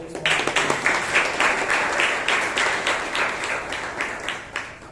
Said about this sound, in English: Give a round of applause for our president.